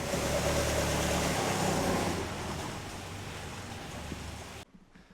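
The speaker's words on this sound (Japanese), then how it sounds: "軽くアクセル吹かしてあげて" A 27-year-old Caterham Super Seven engine rumbles close by under a light blip of throttle, the revs rising then easing back toward idle before cutting off abruptly.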